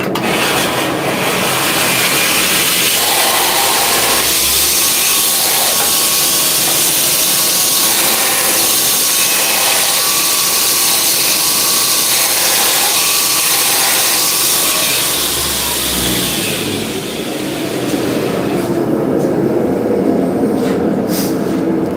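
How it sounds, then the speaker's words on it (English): A bench grinder working forged steel, a loud continuous harsh grinding whine close by for most of the stretch, fading briefly before another short pass near the end. "I'm gonna clean this up on the grinder"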